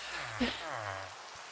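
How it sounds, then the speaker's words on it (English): Rain falls in the Minecraft game as a soft, even patter under a calm speaking voice for a couple of seconds. "And of course it had to be raining."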